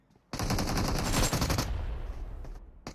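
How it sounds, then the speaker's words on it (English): A sustained, loud burst of rapid automatic gunfire in PUBG Mobile during a competitive match, its rattling shots close together, then fading into a few scattered pops. "Jiggle is already peppering bullets in his direction"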